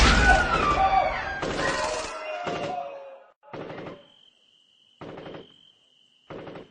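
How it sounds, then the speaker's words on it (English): Assault rifle gunfire sounds in staccato bursts, with loud, dense shots at first, then shorter clipped volleys separated by silence and a lingering high ring. "It was all thunder and the incessant staccato chatter of an assault rifle down there, with screaming and shouting."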